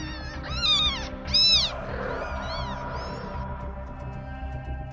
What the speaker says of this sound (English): That's the sound of the babies when they were little babies.